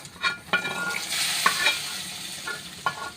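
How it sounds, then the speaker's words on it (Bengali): Browned fried onion and half-broken dried chili tempering poured into mango chutney, giving a steady sizzle with several sharp stirring scrapes spaced through a short burst. "এখন আমি এই বাগারটা এই চাটনির মধ্যে দিয়ে দিচ্ছি।"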